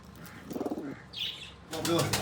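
Pigeons in a loft give soft coos and bursts of wing flapping, with a brief flurry of movement midway and louder rustling toward the end; a voice talks faintly underneath.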